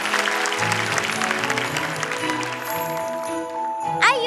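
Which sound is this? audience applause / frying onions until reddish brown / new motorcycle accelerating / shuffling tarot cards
audience applause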